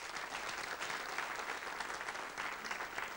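Studio audience on a TV quiz show applauds a female contestant, dense steady clapping filling the room for about three seconds with no talk over it.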